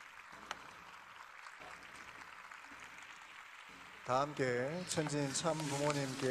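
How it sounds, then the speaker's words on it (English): Audience applause at a staged birthday celebration, a steady wash of clapping for about four seconds before an amplified voice begins speaking over the thinning crowd noise. "Let us give her a big round of applause"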